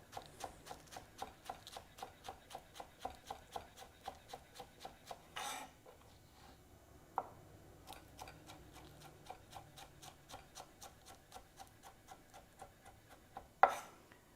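A knife rocks up and down on a table, chopping onion in a steady, quick rhythm of close, crisp taps, pausing now and then before resuming with a few louder knocks.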